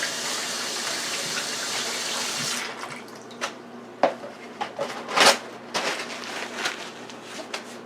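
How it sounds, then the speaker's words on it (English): Kitchen tap water gushing steadily into a sink as hands are washed while cooking beef and bean soup; the flow stops partway through, leaving close splashes, drips and clattering handling sounds. "Let me just wash my hands."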